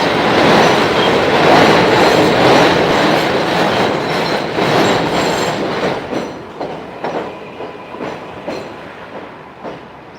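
A train rumbles loudly past nearby on the Long Island City waterfront in Queens, New York, wheels clacking over the rails, the roar fading and breaking into rhythmic clatter as it moves away.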